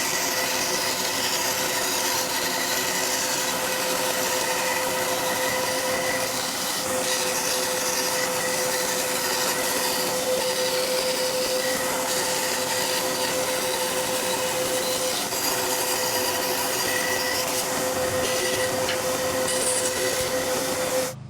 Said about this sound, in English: there might be some hope for that little bandsaw yet. It did okay cutting this